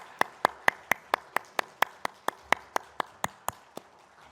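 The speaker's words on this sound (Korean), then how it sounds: "하나님께 영광의 박수 올려드리겠습니다." A small church congregation claps together during a Sunday worship service, about seventeen sharp, evenly spaced claps in a steady rhythm, close and fairly loud with no talking.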